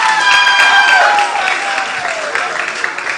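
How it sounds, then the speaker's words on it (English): An audience at a beauty pageant storytelling night in Ghana applauds a contestant, a dense burst of clapping and crowd cheering that starts loud and tapers slightly, with a voice briefly audible beneath. "Oh, come on, clap for her."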